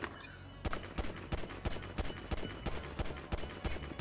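Pistol fired in Grand Theft Auto V: a steady series of sharp, evenly spaced shots, roughly three per second, close and distinct over quiet background with no talk.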